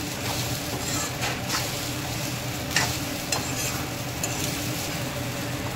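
Sabudana khichdi is stirred and sautéed in a pan. A spoon scrapes in repeated sweeps over a steady frying sizzle, close and continuous, with no talking.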